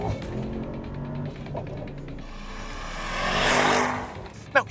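A 2026 Mercedes SL55 AMG roadster engine in race mode with manual shifting, revving up on a downshift; the exhaust swells to a loud peak near the end after steady running, with a sharp pop at the close.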